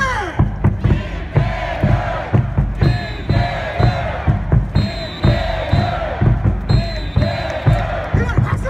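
A large baseball crowd at a home game at Jamsil stadium against Nexen chants and cheers for a batter in steady rhythmic bursts, with clapping and thunderstick beats driving the pulse throughout.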